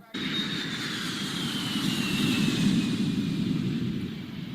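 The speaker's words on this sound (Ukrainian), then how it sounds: "Літак." A jet airplane roars steadily overhead, a broad loud rushing drone with a faint high whine, swelling slightly then easing.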